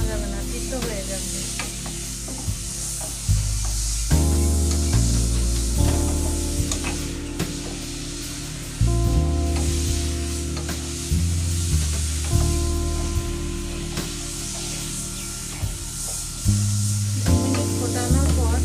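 Mustard seeds sizzling and popping in hot oil for a Bengali dab chingri prawn dish, a steady loud fry hiss with intermittent crackles and scraping stir sounds close up, a low hum underneath.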